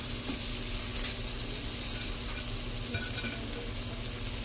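Salmon sizzles and fries steadily in a hot pan, a dense, continuous crackle at close range with no pauses and no talking.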